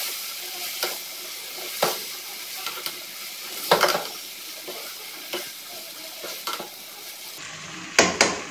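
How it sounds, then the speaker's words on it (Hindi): Okra tossed with whole spices in a hot pan, stirred with a utensil that scrapes and knocks against the metal in steady strokes over a constant sizzle, close and fairly loud. "अच्छी तरह से मिक्स कर लेंगे।"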